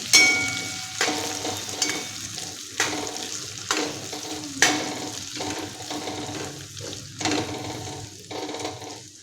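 Boiled potato pieces stirred and fried in oil on a non-stick pan, a close, loud sizzle broken by repeated rhythmic scraping strokes about once a second, no talking.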